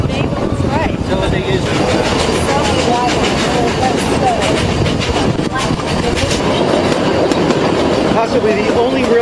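Riding aboard the Puffing Billy Railway steam train, a loud, continuous rattle of carriages and clattering wheels on track fills the scene, with voices faintly mixed into the noise.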